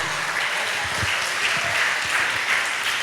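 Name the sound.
congregation applauding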